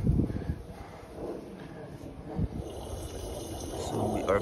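Water fills the base of a portable basketball hoop with a continuous low trickling and gurgling, close by outdoors, with faint wind and occasional knocks.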